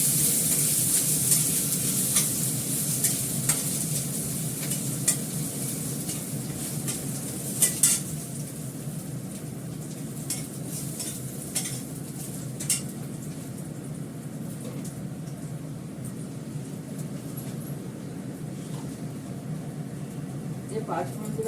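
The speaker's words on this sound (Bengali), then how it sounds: "যে 5 ফোড়ন দিলাম 1 চামচে।" Five-spice tempering with dried chili and garlic sizzles in hot oil, a soft steady crackle with occasional clinks of a spoon stirring the pan, under a voice talking throughout.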